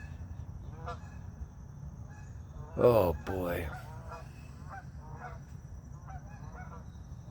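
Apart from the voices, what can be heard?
geese honking flying over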